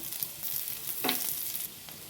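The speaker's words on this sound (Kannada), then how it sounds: "ಕೊಬ್ಬರಿ ಎಣ್ಣೆ ಹಾಕೋತಾ ಇದ್ದೀನಿ ನಾನು ಈರುಳ್ಳಿ ಫ್ರೈ ಮಾಡ್ಕೊಳ್ಳೋಣ" Onion and garlic frying in coconut oil in a pan, soft steady sizzle with a few light spoon clicks, close and quiet, no voices.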